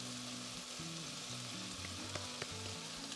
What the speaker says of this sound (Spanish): vamos a dejar que se fría también los nopalitos